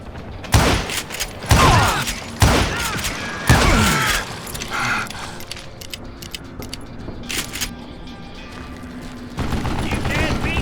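Revolver gunfire in the Western shooter Call of Juarez Gunslinger, several loud close shots in quick succession followed by scattered fainter shots and clatter, with a voice speaking between them.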